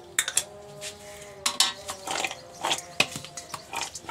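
A spoon stirring lachha salad, a dish of sliced onion tossed with chaat masala, Kashmiri chili and vinegar, in a metal bowl, giving sharp scattered clinks and scrapes at close range, some louder knocks among softer rustling.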